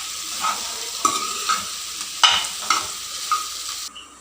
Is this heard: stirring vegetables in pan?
yes